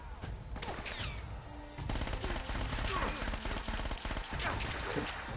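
Sustained bursts of gunfire in an Uncharted video game firefight, dense and fairly loud, continuous volleys of shots with brief swells and little pause.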